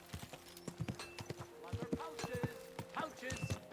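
Horse hooves clip-clop in a steady, close rhythm on a hard surface in the medieval video game Kingdom Come Deliverance 2, with a voice speaking calmly over the footsteps.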